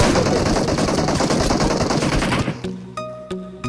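Sustained automatic gunfire in PUBG, a loud, dense, continuous rattle of rapid shots that cuts off near the end, followed by a few isolated sharp cracks.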